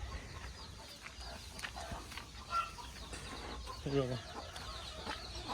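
A free-range country hen with a brood of chicks clucks softly on a farm, scattered quiet calls with one louder descending note, as someone says a few words.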